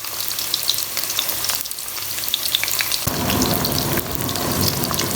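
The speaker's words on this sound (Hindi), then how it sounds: "इनको फ्राई करना है।" Okra (bhindi) fries in hot oil as a loud, dense, continuous sizzle that crackles like rain, swelling slightly partway through, with no voices.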